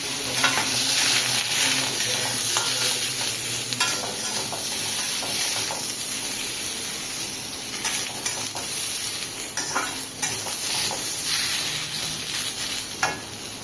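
Boiled jackfruit chunks, salted and turmeric-coated, fry steadily in hot oil with a constant crackling sizzle, punctuated by occasional spatula stirs and scrapes against the pan.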